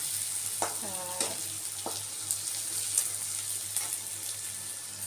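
Shrimp sizzles steadily in a hot wok, with a few clattering stirs and scrapes over the constant frying hiss.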